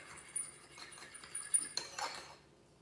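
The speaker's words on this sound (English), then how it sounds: "So beat the eggs really well. You can use a whisk or a fork." Eggs are beaten with a whisk or fork in a bowl, giving faint, quick metallic clinks and scrapes in a short irregular run, quiet and without voices.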